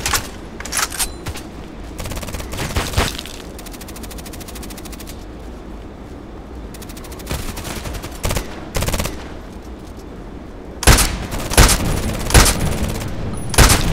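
TKPD sniper rifle shots ring out in Contract Wars on the Evac map, sharp loud cracks spaced across the stretch with quieter gaps between, a final cluster of several rapid reports near the end.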